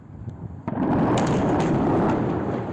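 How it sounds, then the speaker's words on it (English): Heavy explosions booming over Tehran at night, a sudden sharp blast followed by a sustained, loud rumbling roar that fills the air without letup. "Tehran woke to terrifying booms that engulfed the night sky in flames"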